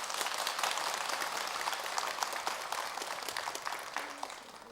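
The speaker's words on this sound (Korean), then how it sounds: "큰 박수 한번 주세요." An audience applauding during a Sunday dharma service at a Buddhist temple, a dense wash of clapping at moderate level that slowly thins over a few seconds, with no speech.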